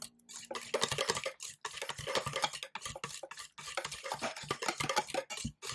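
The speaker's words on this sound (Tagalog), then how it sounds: "We just have to mix it with our ingredients." Mango ice cream ingredients being stirred together in a bowl, giving steady scraping and clinking strokes in quick repeated bursts with short pauses, close and fairly loud, no talking.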